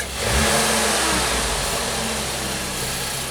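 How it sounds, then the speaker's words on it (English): A 2014 VW Jetta with a GDI turbo engine and an intermittent misfire is revved with a quick snap of the throttle, surging to a loud, close roar that then holds at a high, steady drone. "Give it a snap throttle, Jim."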